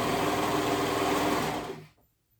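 A serger stitches ruffles onto a dress skirt with a fast, close mechanical whir that runs steadily, then winds down and stops near the end, leaving quiet.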